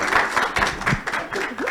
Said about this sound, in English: let's give the panel a clap and give ourselves a clap